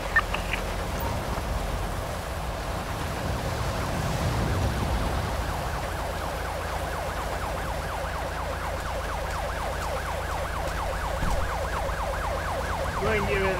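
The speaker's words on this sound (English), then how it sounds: "Ambulance. Assistance required in Palato Forest." An ambulance siren in the video game Grand Theft Auto 5, a steady rapid wailing yelp that runs the whole time over a constant hiss like rain, loud and continuous with no talking.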